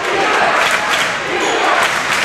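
A basketball crowd at an OAC tournament semifinal roars and cheers on its feet, a dense, loud wall of voices filling the arena with no break.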